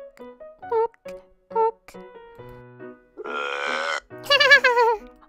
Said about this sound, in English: That was a nasty, nasty burp.